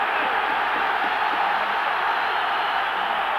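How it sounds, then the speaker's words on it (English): A stadium crowd roars continuously for Rangers during a 1993 European match against Club Brugge, a dense, steady wall of cheering and shouting with no breaks, loud and distant-sounding. "And the crowd getting right behind Rangers now."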